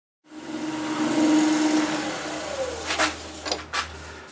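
Wood lathe spinning a chestnut end-grain vase while polish restoring paste is buffed on, a loud close motor hum and whir that starts abruptly, with brief scuffing bursts of rubbing near the end.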